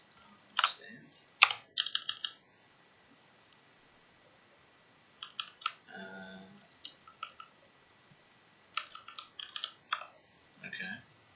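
Typing on a computer keyboard comes in short bursts of quick clicks separated by quiet pauses, close and fairly soft, with a brief murmur in between.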